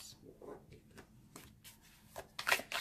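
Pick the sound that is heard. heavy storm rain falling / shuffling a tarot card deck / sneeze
shuffling a tarot card deck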